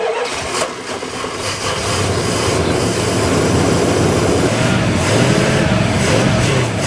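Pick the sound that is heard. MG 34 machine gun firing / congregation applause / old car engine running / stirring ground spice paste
old car engine running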